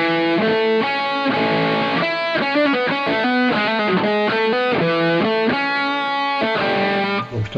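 A distorted electric guitar strums a sequence of chords with a passing tone threaded between them, clear and close, with rhythmic changes over several bars and no voices.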